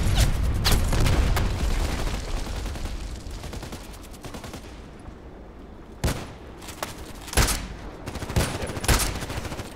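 RPK light machine gun fire in the online shooter Contract Wars: loud bursts of shots early, a lull, then several sharp separate shots and short bursts near the end.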